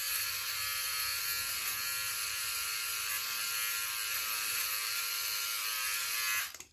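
An electric razor, either a Philips Norelco OneBlade Pro or a MicroTouch Solo Titanium, buzzes steadily and close while shaving a face, a high even whine that cuts off abruptly at the end with no talking.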